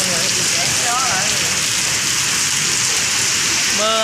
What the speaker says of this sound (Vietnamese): Mưa ở Sài Gòn mưa lớn lắm mọi người.